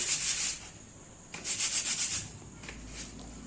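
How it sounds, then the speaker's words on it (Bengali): Two buttered flatbreads rubbed together between both hands, soft dry scuffing in two short bursts, close and quiet, with a brief pause between them. "এখন আমি এক পাশে লাগিয়ে ভালো করে এগুলোকে ঘষে নিচ্ছি 2 হাত দিয়ে"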